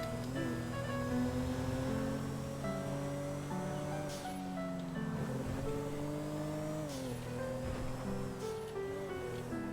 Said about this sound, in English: Well, the car certainly sounds different now.